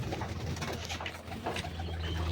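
Pigeons coo softly in low, rolling calls against a steady background hum, fairly faint, with no talking.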